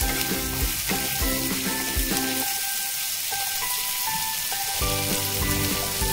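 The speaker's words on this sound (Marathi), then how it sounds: "त्यामुळे हाय फ्लेमवरच आपण जवळपास 4 ते 5 मिनिट ही भेंडी मस्त परतून घेणार आहोत।" Okra stir-fries on a high flame in an uncovered pan, a loud dense sizzle with repeated stirring clatter that quiets briefly midway before the crackle picks up again.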